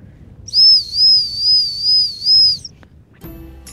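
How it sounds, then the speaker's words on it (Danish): A dog-training search whistle blown in a warbling, trilled pattern with five rising-and-falling pulses over about two seconds, loud and close in an otherwise quiet outdoor setting. "så bruger jeg et søgefløjt."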